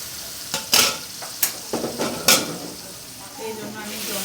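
Boiled red spinach with its cooking water frying in a pan as a spatula stirs it, several sharp scrapes over a low sizzle that quiets into gentle bubbling, close by, with brief faint voice traces.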